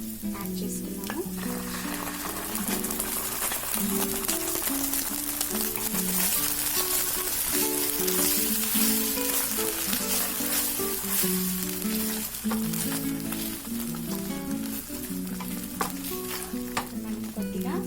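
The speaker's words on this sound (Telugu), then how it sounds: "ఫ్రై చేసుకున్న తర్వాత నేను ketchup 1/2 spoon, chilli sauce 2 spoons వేస్తున్నాను" Fish kabab pieces sizzle loudly in a pan as ketchup and chili sauce go in, a dense, steady frying crackle with stirring scrapes running throughout, close and without talk.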